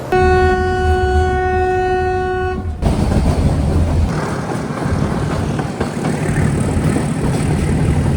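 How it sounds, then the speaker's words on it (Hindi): A passenger train's horn blares steadily for several seconds, then cuts off into the loud, continuous rumble and rattle of the train running along the tracks, heard close by during a journey in Gujarat. "भाई ये ट्रेन तो गजब है।"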